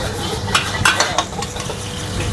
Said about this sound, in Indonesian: Lanjut gue bikin puyung hai udang.